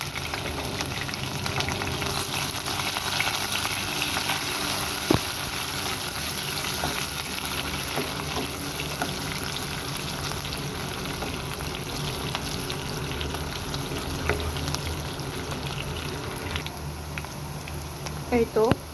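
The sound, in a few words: frying chopped onion and garlic in hot oil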